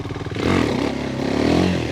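A motorcycle engine revs up hard as the rider pulls a wheelie, the roar swelling after a brief lower idle and holding loud and close with some rattling clatter and no speech.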